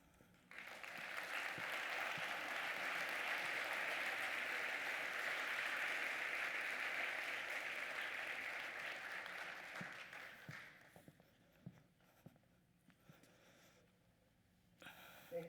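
Conference audience applauding: a full, even wash of clapping that holds for about ten seconds, then fades out into a quiet room with a few scattered claps and small noises.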